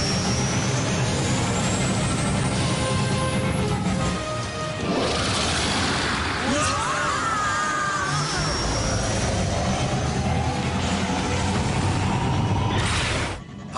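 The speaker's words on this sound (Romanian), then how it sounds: "Muki, decolează! Acum!" A cartoon aircraft with modified thrusters roars into takeoff, a loud sustained jet-like rush with rising whines and clattering bursts throughout, fading at the very end.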